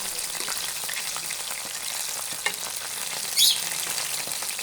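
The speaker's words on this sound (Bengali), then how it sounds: "এখন লাল লাল করে ভেজে নেব" Chicken pakora frying in hot oil, a steady close crackling sizzle with dense bubbling that stays level throughout, plus a couple of brief louder pops.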